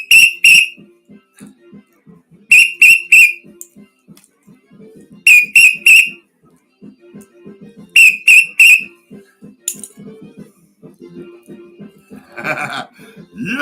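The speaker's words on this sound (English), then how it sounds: "Where's your whistles? Show me your whistles." Whistles blown by a dance crowd shriek in sharp bursts of three, repeating at regular intervals over a faint thumping music beat, loud and close.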